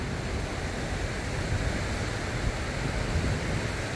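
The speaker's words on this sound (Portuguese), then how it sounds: "Olha o volume de água aí, gente." Floodwater from the overflowing Itajaí Mirim river in Brusque rushing past, a steady, dense roar of moving water with no break across the whole stretch.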